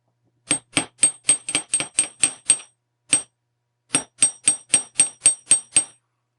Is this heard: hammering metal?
yes